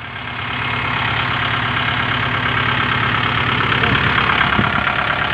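A Kubota L5018 tractor engine idles steadily and loudly close by, a constant low rumbling drone with a faint knocking texture throughout.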